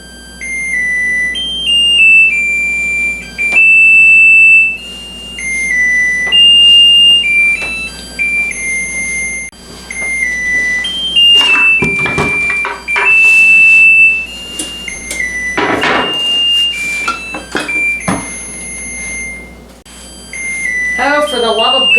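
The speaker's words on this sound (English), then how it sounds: "it's good there was a timer going" A kitchen timer alarm beeps repeatedly in a home kitchen while coconut cream pie filling is being made, its steady high electronic tones continuing under a person talking and clattering around the kitchen.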